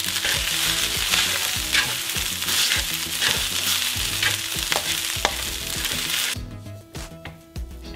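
Fried rice with seasonings is stirred in a hot pan: loud, close sizzling with rhythmic scraping strokes of a spatula that ease off into quieter clatters near the end.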